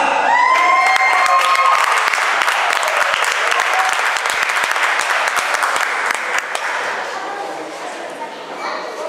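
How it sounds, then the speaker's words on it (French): A live audience applauds Vanessa with loud, sustained clapping and some cheering, steady across the clip and tapering slightly near the end. "Je vous demande d'applaudir Vanessa."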